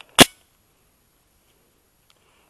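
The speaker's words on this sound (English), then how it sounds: "shooting the Glock 34" A single sharp shot from a Glock 34 Gen4 pistol at a training range rings out close and loud, then drops to near silence.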